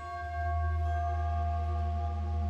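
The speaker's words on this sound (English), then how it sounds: "Doorbell." A doorbell rings inside the horror video game The Casting of Frank Stone: a steady chime with bright sustained tones over a low droning hum, loud and close, with no talking.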